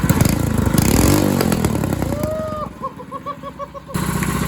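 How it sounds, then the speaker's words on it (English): A cheap, overhauled go-kart engine revs hard close by, a loud rough blatting that climbs and drops, then settles into a choppy, sputtering idle before surging again. "my go-kart is now a flame-spitting monster"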